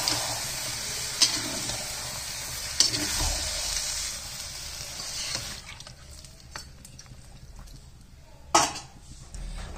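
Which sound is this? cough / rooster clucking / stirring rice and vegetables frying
stirring rice and vegetables frying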